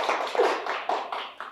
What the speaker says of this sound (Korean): 좋은 질문, 첫 질문 해주신 분한테 박수 한번 보내드릴까요?